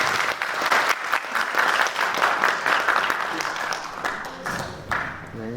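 Lively audience applause at a Korean youth presentation event as a young presenter is welcomed, many hands clapping loudly with some individual claps standing out, gradually thinning toward the end.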